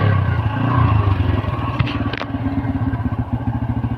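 A TVS Apache RTR 160 motorcycle idling and revving nearby, its exhaust putting out a loud rapid thumping pulse with clattery engine noise, continuous throughout.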